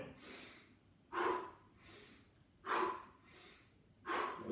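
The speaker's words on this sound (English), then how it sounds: "In through the nose, out through the mouth." Rhythmic breathing exercise: a slow inhale through the nose followed by a sharp, breathy exhale through the mouth, repeated in three close, clear cycles in a quiet room without speech.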